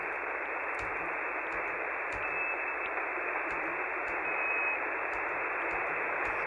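Steady band-limited radio static hisses throughout, with faint clicks and brief tones popping through as the dial moves.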